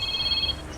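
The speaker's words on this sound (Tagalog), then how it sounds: "Oh, may tumatawag sa cellphone ko." A cellphone ringtone chirps as a short, steady electronic tone for about half a second, then cuts off, heard faintly in a quiet room.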